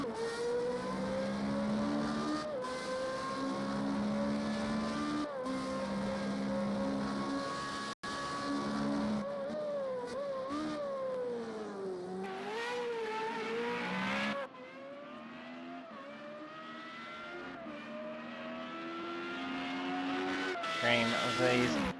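3.5 litre Formula Renault race cars scream down the pit straight at the Red Bull Ring, high-pitched engine whine rising and falling through gear changes, with a voice talking over the cars.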